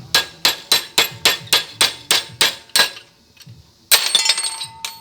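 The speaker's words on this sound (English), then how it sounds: "we're gonna try to hit it with the hammer again" A hammer striking a glowing, torch-heated metal part stuck on a car, about ten sharp ringing metallic blows in steady rhythm, a brief pause, then a louder clattering impact with lingering ring, close up.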